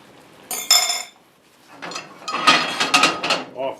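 A cast iron skillet scrapes and clanks across a stove grate in a series of close metallic grinding rattles, cooking Steak Diane with mushrooms. A short pause falls between the bursts, and no one speaks.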